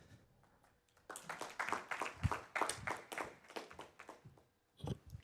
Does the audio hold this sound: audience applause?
yes